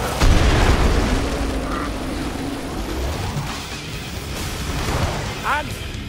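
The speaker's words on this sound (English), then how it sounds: "There's bomb zones coming down." Heavy bomb explosions rumble almost without pause on a farmhouse map in the shooter Killing Floor 2, a dense wall of booms under a voice, with a few sharper pops late on.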